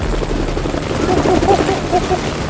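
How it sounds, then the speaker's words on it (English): A helicopter in the VR game Crisis on the Planet of the Apes gives off a loud, steady rotor rumble throughout, with faint tonal game sounds layered over it. "Oh, jeez, the helicopter again."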